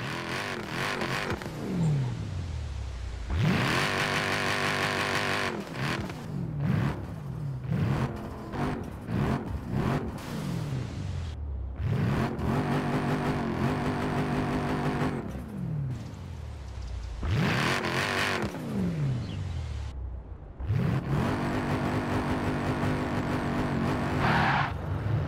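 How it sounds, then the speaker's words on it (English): A Mercedes-AMG E63 with over 600 bhp drives on a quiet residential road, its engine roaring loudly through repeated revving bursts and gear changes, with brief lifts between pulls. "I love the sound of that engine."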